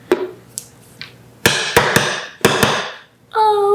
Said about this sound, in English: I'm gonna make sure my leaf is lined up good before I hammer the last tap down.